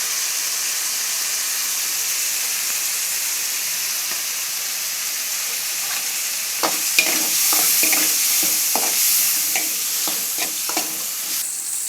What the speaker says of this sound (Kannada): ಇವಾಗ ಬದನೆಕಾಯಿ ಹಾಕ್ತಾ ಇದ್ದೇನೆ ಫ್ರೆಂಡ್ಸ್. ಚೆನ್ನಾಗಿ ಫ್ರೈ ಮಾಡ್ಕೊಳ್ಳಿ